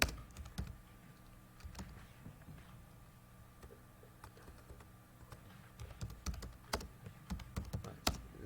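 Router configuration commands being typed on a computer keyboard, irregular clicking keystrokes close and quiet, with a denser flurry of taps toward the end.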